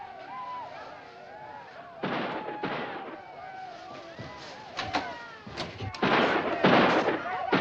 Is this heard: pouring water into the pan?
no